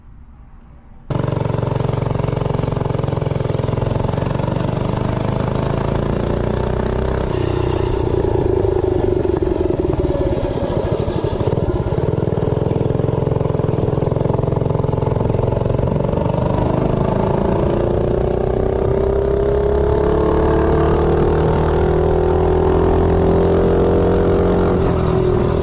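A Tillotson 212 small engine fitted with a billet flywheel starts up and holds a loud, close, steady drone during a top speed run, its pitch slowly rising as it pulls harder.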